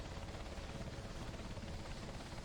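A helicopter in flight on a trip from Aberdeen to RAF Lossiemouth, giving a steady, faint, pulsing rotor drone with no voices.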